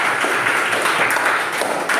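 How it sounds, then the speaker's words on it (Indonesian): Students in a classroom clap their hands in a steady, fairly loud burst of applause that fills the whole moment. "Alif, tepuk tangan untuk Alif."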